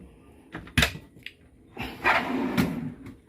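A drawer in a converted camper van slides and shuts: a sharp clack followed by a longer rumbling slide with a knock near the end, close by and fairly loud.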